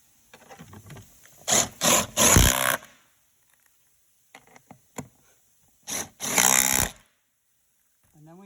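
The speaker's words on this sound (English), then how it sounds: "then we can drive the front 2 machine screws in" Power driver running machine screws into an UltraComfort 3-position lift recliner, heard as two nearby clusters of short buzzing bursts separated by quiet gaps and faint handling noise.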